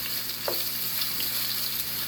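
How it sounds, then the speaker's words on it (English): Meat sears in a pan with a low, steady sizzle, faint and continuous over about two seconds, with a brief soft clink partway through and no talking. "we trying to get us a nice little sear going on here"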